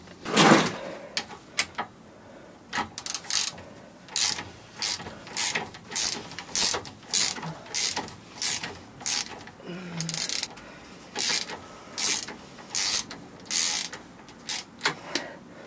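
A ratchet wrench loosens a car suspension bolt while control arms and anti-roll bar bushings are being changed, with repeated loud bursts of clicking in an uneven rhythm, close up, and no talking.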